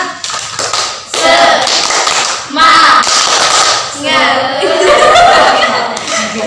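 A classroom of students claps out a rhythmic 'tepuk semangat' chant, sharp bursts of clapping mixed with voices chanting and some laughter, loud and close.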